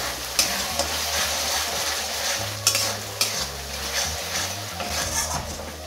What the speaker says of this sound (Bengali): টমেটো আদা রসুন সব ভালোভাবে ভাজা হয়ে গেছে